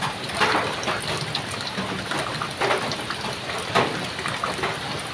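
Rain falls steadily in a rural setting, a dense continuous patter with a few stronger gusts of drops, heard alone without talk.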